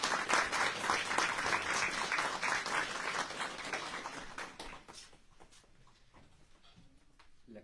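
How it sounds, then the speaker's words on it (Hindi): Audience at a Hindi Divas celebration in Canberra applauds to welcome the Indian High Commissioner, lively clapping for around four seconds that tapers off into scattered claps and quiet room noise. "कृपया तालियों से उनका स्वागत करें।"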